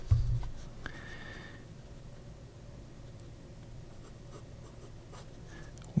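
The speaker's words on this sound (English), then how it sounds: "Feed looks nice and wet, so we should be able to write with this thing now." A freshly re-inked Wing Sung 930 fountain pen with a chrome finish writing on paper, giving a soft, close scratching that comes and goes over steady low background hum, with no talking.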